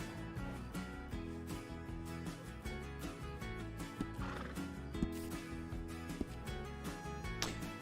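A single horse pulling a small covered two-wheel buggy in a video game whinnies loudly several times over a steady clip-clop of hooves, with a rolling rattle of the cart underneath and no talking.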